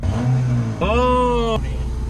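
A Maruti Suzuki car engine revs once in a short rising burst that then holds steady, loud and close, with a voice overlapping the engine noise.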